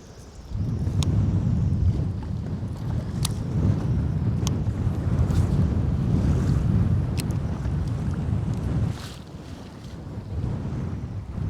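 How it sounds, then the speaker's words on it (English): A strong 30 mph wind gust roars steadily and loudly against the microphone outdoors, a low rushing buffet with a few sharp clicks, dipping briefly near the end. "And the wind's back."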